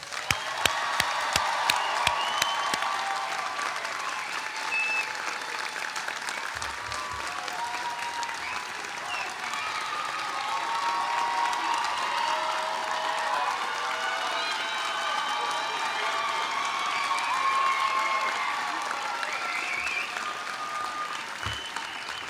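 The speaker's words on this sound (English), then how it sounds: "A round of applause" Sustained applause from a large audience for the 2023 graduating classes at the PCOM South Georgia commencement ceremony, a dense, steady wash of many hands clapping that holds evenly throughout, with a few sharper claps near the start.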